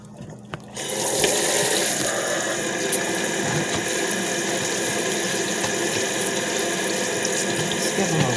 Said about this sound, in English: So what I'm going to do is rinse them off.